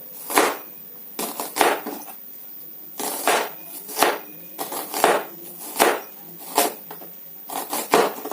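A knife cuts through custard apple fruit on a board, roughly a dozen distinct crunchy slicing strokes in an uneven rhythm, close and fairly loud with quiet gaps between cuts.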